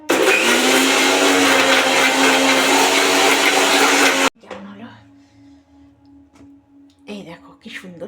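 A mixer grinder roars loudly and continuously while blending coconut with black mustard seeds into a paste, then cuts off abruptly, leaving a faint hum and some quiet handling noises.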